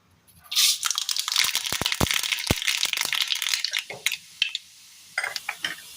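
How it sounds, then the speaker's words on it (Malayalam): Mustard seeds dropped into hot oil for a Kerala drumstick pickle, bursting into a loud, dense sizzle with sharp crackling pops that gradually thin out. "ഇനി ഈ എണ്ണയിലേക്ക് നമുക്ക് കടുകിട്ട് കൊടുക്കാം"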